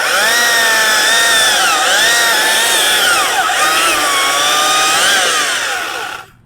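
A Stihl MSA 300 C-O battery chainsaw cuts through oak, its high whining motor loud and continuous, pitch dipping and rising as pressure is applied, then cutting off at the end.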